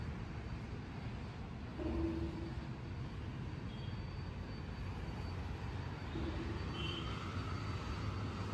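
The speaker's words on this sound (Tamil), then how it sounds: "இப்போ நீங்கள் பார்க்குற மெட்ரோ வந்து பொம்மசந்திராலேருந்து ஒசூருக்கு போகிற மெட்ரோ." A Bommasandra to Hosur metro train runs as a faint, steady rumble for about eight seconds, heard from a distance with no talk over it.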